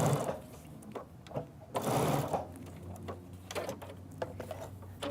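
A sewing machine fitted with a Teflon foot stitches through Kimberbell leather in quick whirring bursts, pausing briefly between runs, close and clear.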